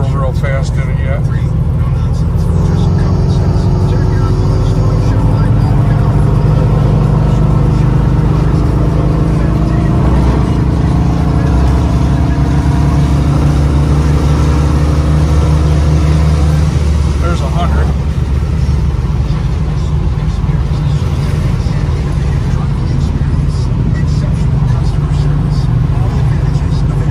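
A 1978-79 Dodge Magnum fitted with Sniper EFI drives along, its engine and road rumble holding a loud, steady low drone throughout, with a voice talking over it much of the time.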